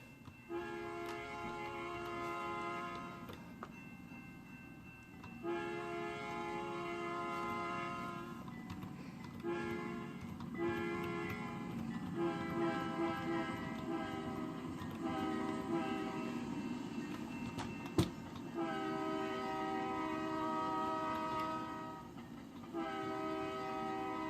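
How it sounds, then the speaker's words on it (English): A video game oil train on Union Pacific, FXE, KCS or INRD lines rolls past with a drawn-out, multi-tone horn sounding in long blasts over steady rumbling wheels. "We got an oil train."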